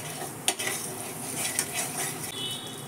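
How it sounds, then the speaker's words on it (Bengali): Cooking oil heating in a pan in a home kitchen, a soft continuous sizzle broken by a few sharp utensil clinks and stirring scrapes. "এর মধ্যে আরও একটু তেল দেব। এই তেলটাকে ভালো করে গরম করে নেব।"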